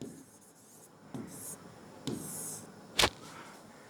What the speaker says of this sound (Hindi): तो हम यहाँ पे लिखते हैं